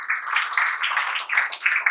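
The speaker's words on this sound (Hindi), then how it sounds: "एक बार इनके लिए तालियां बजा दो आप सब" An open-mic poetry and storytelling audience in Delhi applauds a performer, giving light, scattered clapping in short uneven bursts.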